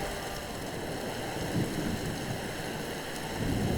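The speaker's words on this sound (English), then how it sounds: "I think it's pretty cold and rainy here" Steady rain hisses in a cold, rainy Skyrim landscape, with low rumbles of thunder swelling briefly twice beneath the constant downpour.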